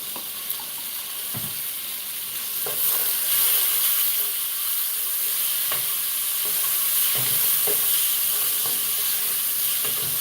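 Garlic, a tablespoon of it, frying in a pan on a home kitchen stove while cooking vegan ramen: a steady, fairly loud sizzle with scattered clicks and scrapes of stirring throughout.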